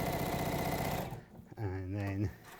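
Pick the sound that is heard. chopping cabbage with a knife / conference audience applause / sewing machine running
sewing machine running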